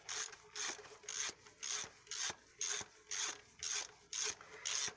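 Old grease is rubbed off a rear wheel by hand, about nine rhythmic rasping strokes in steady back-and-forth succession, close but quiet, with no talking.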